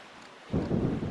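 Thunder rolls during a lightning storm at sea in The Legend of Zelda: The Wind Waker HD, a quiet lull that breaks into a loud, deep rumble partway through.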